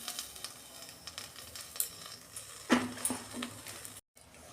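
Cooking oil heats in a kadai (wok) for a bottle gourd leaf dish, giving a faint, quiet sizzle with a few soft clinks and bumps.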